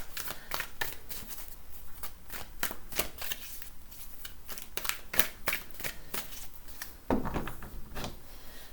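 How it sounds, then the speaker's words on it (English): Tarot cards are shuffled by hand in a steady run of crisp riffling snaps, close and moderately quiet, continuing for several seconds with a louder flurry near the end and no talking. "Just do a couple more shuffles."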